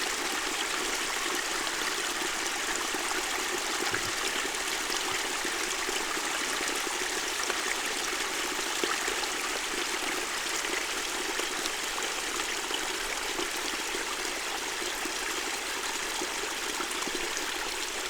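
Mountain spring water flows and trickles steadily at an off-grid homestead, a close, continuous rushing babble with no break.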